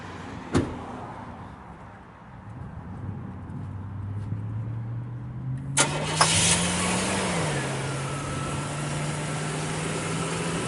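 A click, then a 1998 Chevrolet Cheyenne 1500 short box pickup engine cranks and catches, revving briefly before settling into a low, smooth, steady idle nearby.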